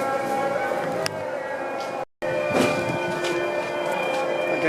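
A Cairo metro train stands at a station, its steady rumble and hum filling the platform with a brief break partway through, while faint voices can be heard in the background.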